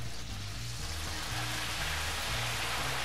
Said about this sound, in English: And now as this fries and the moisture evaporates off, we're gonna slowly collect it so we get one mass.